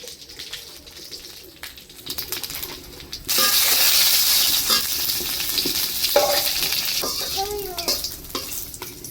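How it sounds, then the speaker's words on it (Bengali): Cumin, bay leaves and dried chillies hit hot oil with a sudden loud sizzle that continues steadily, stirred now and then, while pigeons coo softly in the background. "জিরা, তেজপাতা, মরিচ আমার ভাজা হয়ে গেছে।"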